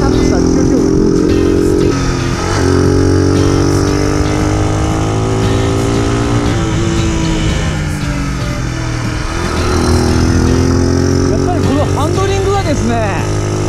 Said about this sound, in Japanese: カタカタした吸気音が気持ちいい